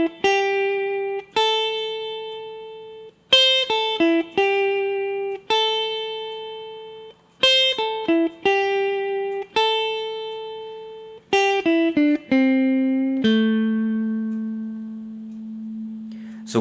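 Clean electric guitar playing a blues lick in the minor pentatonic scale, three repeated phrases of plucked and bent notes, then a descending run ending on a long ringing note, close and clear without talk.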